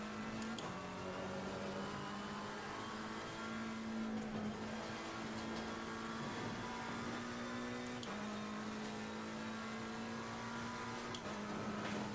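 A race car engine in Assetto Corsa Competizione at Bathurst drones continuously at high revs, pitch dipping and climbing with gear shifts, loud and steady throughout.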